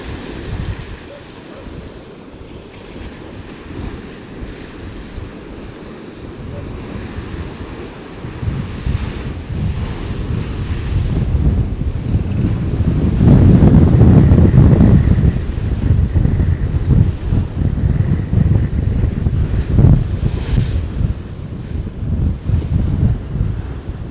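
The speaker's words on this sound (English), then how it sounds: "Don't know if you can actually hear the waves smashing down on each other." Storm waves crash and churn at Gorleston beach under high wind, a loud continuous roar of surf with heavy wind buffeting the microphone and surges of breaking water building toward the middle.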